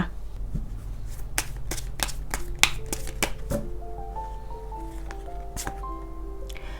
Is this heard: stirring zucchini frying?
no